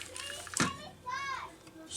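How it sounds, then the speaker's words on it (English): Children's high voices shout and squeal in the background near a workshop, with a sharp click midway and a rising cry, moderately loud. "So you can hear my kids screaming in the background."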